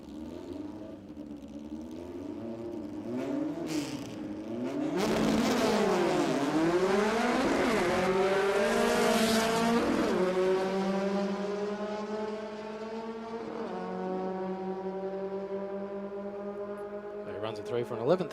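A Volkswagen Beetle drag race car with wheelie bars and a big exhaust spout at the back makes a test run at a Queensland drag racing championship, its engine droning and rising in pitch as it launches and pulls away, with an announcer talking over it.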